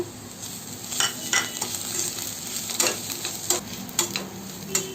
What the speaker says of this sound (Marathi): आता आपण त्याच्यात लसूण टाकूया। लसूण थोडी परतून घेऊया।